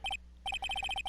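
A cell phone ringtone in the Phoenix Wright: Ace Attorney Trilogy video game, a bright electronic trill that rings in quick repeated double pulses after a brief pause, clear and alone without voices.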